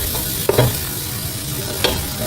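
Chopped onion sizzles as it is stirred in a cooking pot, with a steady frying hiss underneath and a few brief scraping and clinking strokes of the spoon.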